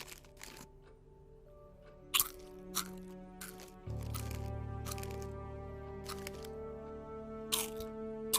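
Salty snacks being crunched loudly by someone eating near the microphone, several sharp separate crunches spread out over a low steady background hum.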